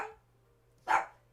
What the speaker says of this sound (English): And that's a dog.